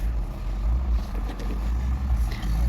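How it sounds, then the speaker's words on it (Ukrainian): A low, steady engine rumble from a large tractor clearing snow from a road, continuous and fairly loud, with faint scraping noises over the top and no talking. "Дорогу чистять. Великий трактор."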